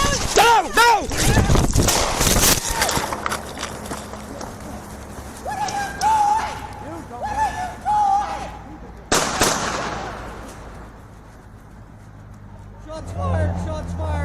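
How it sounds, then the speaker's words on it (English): Gunfire erupts during a tense police confrontation, with loud sharp broadband bursts near the start and another cluster around the middle, mixed with shouting voices and radio chatter. "Shots fired. Shots fired."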